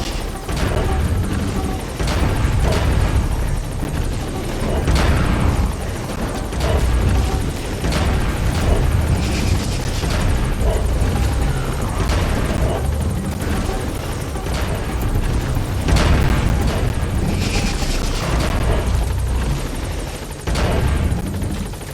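A helicopter roars continuously in Metal Gear Solid V, a loud throbbing rotor wash mixed with battle noise and occasional booms across the whole stretch.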